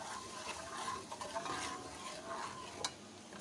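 Ground chilli, turmeric, salt and coriander fry in a pan with a soft steady sizzle, while a spoon stirs and scrapes through them in quiet irregular strokes, close and gentle.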